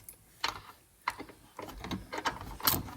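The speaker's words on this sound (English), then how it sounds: "It's a little thumb ratchet" A small thumb ratchet (finger ratchet) turns a long bolt, giving close, quiet bursts of rapid clicking separated by short pauses, during work on a Grand Caravan 3.6 Pentastar engine.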